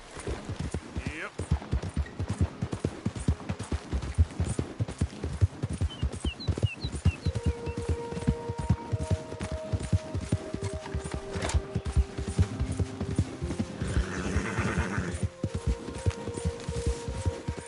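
Steady, rhythmic clip-clop of horse hooves in the video game Red Dead Redemption 2, continuous and fairly close, with a brief whinny, scattered dialogue and a soft musical score underneath.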